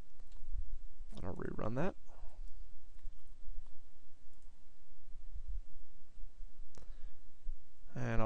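Keys clicking in a quick, irregular run on a computer keyboard, close and moderately loud, with short bursts of speech near the start and end.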